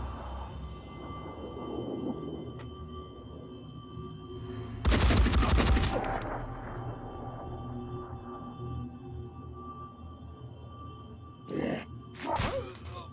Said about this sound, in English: it seems that we have shots being taken at another civilian